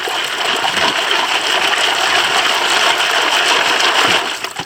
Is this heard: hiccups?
no